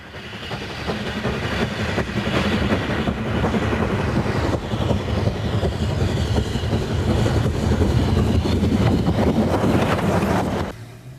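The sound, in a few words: locomotive 80135 climbing on North Yorkshire Moors Railway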